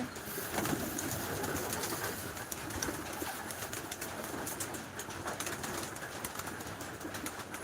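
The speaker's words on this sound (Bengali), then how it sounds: "এই যে পায়রা খাওয়ানোর মুহূর্তটা খুব একটা সুন্দর মুহূর্ত" Pigeons coo and murmur steadily at close range as a flock pecks at grit, with soft shuffling and occasional wing flutters throughout.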